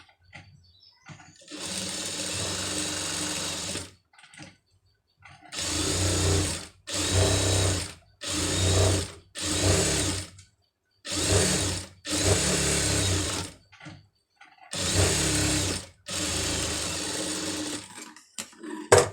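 A sewing machine stitches around a pom pom design sleeve with piping in a run of short bursts. The first whirring run is the longest, then about eight quick stop-start runs of stitching follow, each close and loud, with brief pauses between.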